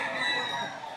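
Backyard chickens at a market, a loud, close rooster-like call with steady harmonic clucking filling the whole second, with no other noise over it.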